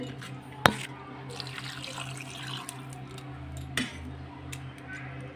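Water poured from a glass into a pot of sambar curry with raw mango, potato, eggplant, cauliflower and drumstick, a soft, steady splash with a couple of sharp clinks of the glass against the pot.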